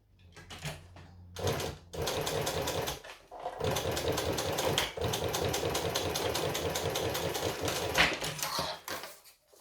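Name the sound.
sewing machine top stitching a pouch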